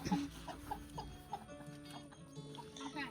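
A small backyard flock of four hens and one rooster clucks in short, scattered bursts at moderate distance, with soft background noise between the calls.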